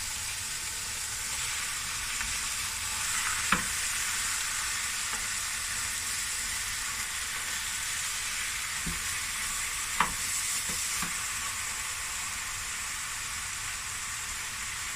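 Lamb sizzles steadily in a hot frying pan on high heat, a constant crackling hiss with a couple of sharp clinks from stirring utensils.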